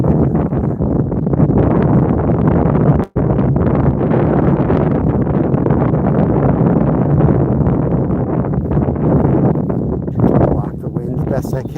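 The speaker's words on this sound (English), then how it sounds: "Block the wind the best I can here." Wind buffets a microphone outdoors in a loud, continuous rumbling roar that cuts out briefly once, then carries on steadily close up.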